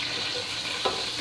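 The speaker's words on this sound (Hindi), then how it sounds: "ये हमने इलायचियाँ फ्राई कर ली।" Cardamom pods frying in oil for sweet zarda rice: a brief, steady, fairly quiet sizzle with one small stir click near the end, no voices.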